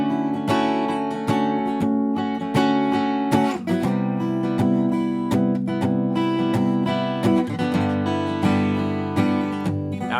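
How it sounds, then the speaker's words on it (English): Guitar plays a stripped-down version of a song, strummed chords ringing with steady rhythmic attacks and sustained harmonics, played alone with no voices. "real quick, 1-minute version, it sounds like this"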